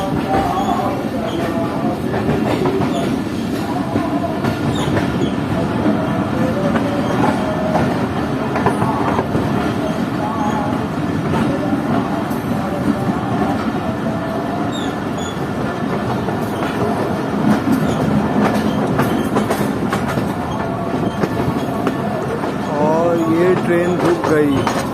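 Shaheen Passenger train running on rails, a steady loud rumble of wheels and carriage noise with faint clicks and squeals, heard from inside the moving train with talk mixed in.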